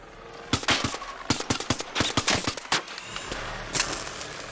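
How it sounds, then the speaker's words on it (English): Rapid bursts of video game gunfire crackle through a firefight during a gaming stream, with clustered shots in quick succession, some rattling like automatic fire, loud and close with no talk over them. "Shoot them! Okay, yeah, shoot that one."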